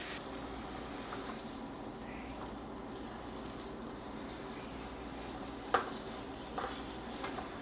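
Ground venison with pork fat browning in a pan, giving a steady soft sizzle close by, with a couple of brief clinks from stirring near the end.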